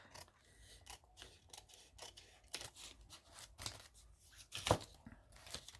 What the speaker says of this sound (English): And I should cut this above.